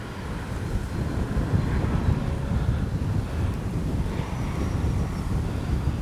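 Strong wind buffeting the microphone at an outdoor RC jet flying field, a dense, continuous low roar that holds steady throughout with no voices.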